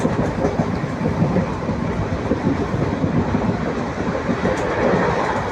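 Kalka–Ambala Cantt passenger train 54532 runs on the Baddi railway line past the Mani Majra IT Park crossing, giving a steady loud rumble with rhythmic clickety-clack of wheels on track throughout.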